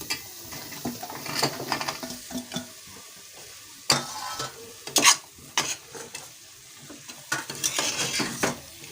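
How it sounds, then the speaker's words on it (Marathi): Vegetables and spices for veg pulao being stirred in a pan, irregular scraping and clattering strokes of a spoon against the metal over a faint sizzle, close by with no talk. "हे असं मिक्स करून घ्यायचं आणि ह्या भाज्या सगळ्या घालायच्या।"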